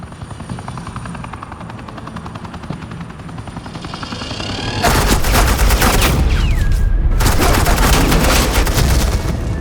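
Suppressing gunfire in a Batman video game, a loud continuous rattle of rapid shots bursting in over a droning helicopter and holding steady with a short gap.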